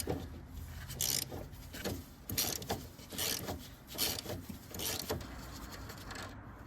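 Wrench working a 12 mm bolt on a Mazda Miata steering coupler under the car: repeated close, gritty ratcheting and scraping strokes in an uneven rhythm, with no talk.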